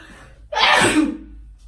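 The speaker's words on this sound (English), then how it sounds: "I'm gonna sneeze." One sharp, loud sneeze bursts out close to the microphone, followed by a brief trailing exhale before quiet returns.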